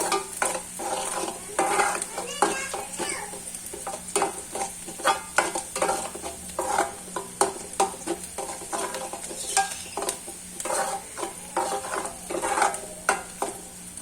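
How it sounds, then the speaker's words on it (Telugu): Onions frying in a pan while being stirred, with frequent close scraping and clinking of a spoon against the pan over a steady sizzle, no talk. "ఈ ఆనియన్స్ అయితే పచ్చివాసన పోయేదాకా వేయించుకోండి."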